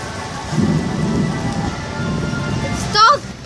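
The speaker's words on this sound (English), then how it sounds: "it's still thundering." Thunder rumbles low and steady beneath a rainstorm with rain pattering on surfaces, close and continuous, with a brief voice near the end.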